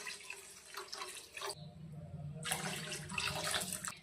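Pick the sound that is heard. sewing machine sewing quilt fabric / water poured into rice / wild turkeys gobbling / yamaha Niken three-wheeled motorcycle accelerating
water poured into rice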